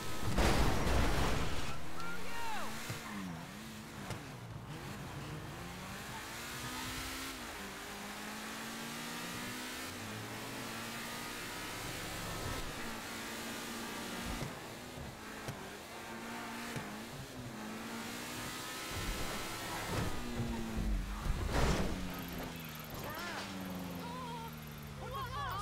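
A fast car's engine drones and revs steadily in Grand Theft Auto V, rising and falling in pitch as it accelerates and shifts over roughly twenty-five seconds, with someone talking over it.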